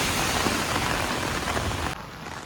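Monsoon rain pouring down in Surat, a dense steady hiss of drops on surfaces, close and continuous with no voices, easing slightly near the end.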